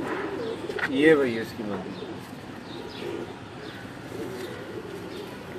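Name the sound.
pigeons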